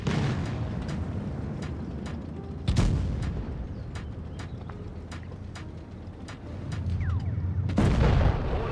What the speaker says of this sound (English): Let me maybe go for one check shot.